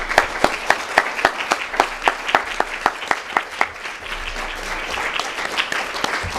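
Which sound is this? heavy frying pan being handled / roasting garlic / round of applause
round of applause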